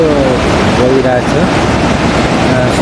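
The large Ghumsa river rushes and roars below a mountain trail as a loud, continuous broadband roar. A voice briefly sounds over it at the start.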